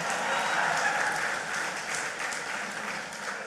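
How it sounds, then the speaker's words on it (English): Audience at a political candidate presentation giving a sustained round of applause, dense continuous clapping from a crowd that holds steady before easing slightly. "You all could give me a round of applause."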